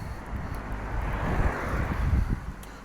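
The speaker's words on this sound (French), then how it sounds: "comme ça je ne serai pas embêté par le vent" Wind buffets a microphone outdoors, giving a continuous low rumble that swells and gusts over a few seconds, loud and close with no other clear sound.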